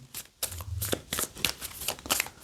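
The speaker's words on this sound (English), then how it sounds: "you will give it a good shuffle" A deck of board game cards being shuffled up close, several quick riffling and sliding bursts in a rapid irregular rhythm, fairly quiet with no talking.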